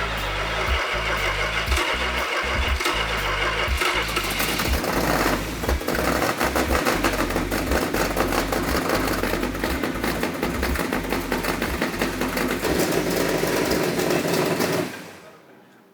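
A car engine with its choke set rich cranks in a few stuttering bursts, catches and then idles loudly and steadily up close for about ten seconds before cutting off abruptly, with no talking.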